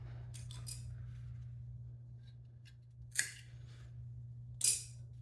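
Scissors cut through an old generator pull cord line in a few quick, crisp snips, close and fairly faint, over a steady low hum in a quiet room.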